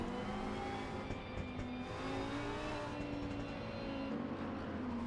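GT2 race cars in a racing simulator at Monza roll off together on a formation lap, with a steady, dense blend of engine drones and rising pitch lines, heard alone without talk.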